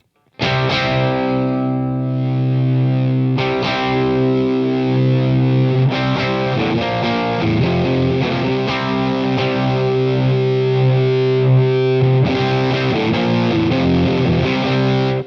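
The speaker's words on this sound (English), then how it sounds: "you can hear the distortion coming in underneath" Heavily distorted electric guitar through an effects unit, with a thick, harmonically rich sustained tone and chords changing every few seconds, loud and continuous with no talking.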